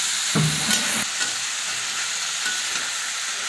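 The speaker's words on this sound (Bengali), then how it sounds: "এই লবণ হলুদ দিয়ে আমি এখন পেঁপেটাকে একটু ভালো করে ভেজে নেব।" Raw papaya with salt and turmeric fries in a pan, giving a steady broadband sizzle with a brief louder stirring scrape near the start, close and continuous with no talk.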